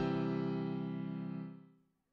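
A single major triad rings out as one sustained, rich tonal chord, held evenly and then fading smoothly to silence over about two seconds, with no other sounds.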